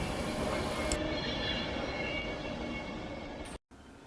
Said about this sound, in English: we have an Avanti West Coast mainline train arriving into Crewe station